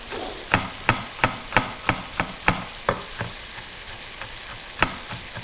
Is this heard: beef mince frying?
yes